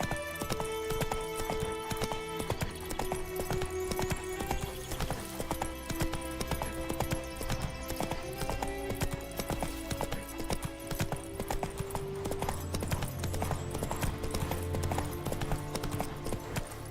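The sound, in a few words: horse Roach galloping hooves in a video game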